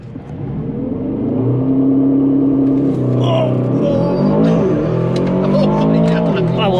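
An Aston Martin DBX 707 doing donuts: a loud, sustained engine roar that rises and falls in pitch with continuous tire scrubbing, close by, with voices talking over it.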